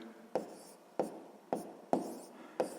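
A pen scratches across paper while a sixth-grade math exercise is written out. Five short, distinct strokes fall at roughly half-second intervals, close and quiet, with no talk.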